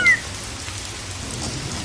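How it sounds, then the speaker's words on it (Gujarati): Steady rain hisses and patters without pause, a soft continuous wash with no voices. "વરસાદ જોરથી વરસી રહ્યો હતો"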